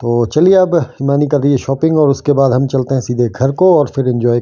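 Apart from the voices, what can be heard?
No everyday noise stands out behind the speech.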